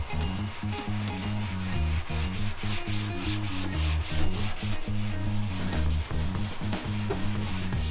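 Body panel of a custom AMC Pacer being hand-sanded to rough down its painted surface, a steady abrasive rubbing with repeated strokes, close and continuous without talk.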